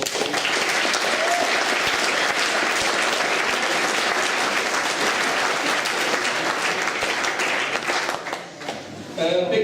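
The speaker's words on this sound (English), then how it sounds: "So if you could give those a round of applause." Sustained applause from the audience at a football club's first team presentation evening, dense and steady for most of the stretch before thinning out near the end as voices start to come through.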